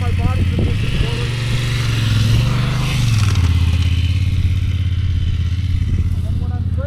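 Honda Transalp 750 adventure motorcycle on a training course: a steady, loud engine drone rises as it accelerates, then eases and drops in pitch as the rear brake is applied, with a voice speaking over it.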